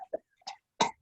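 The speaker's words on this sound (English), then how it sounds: "You are way too convincing with that cough." A man gives a few short, dry coughs and throat-clearing sounds in an indoor scene, close and quiet, with brief gaps between each.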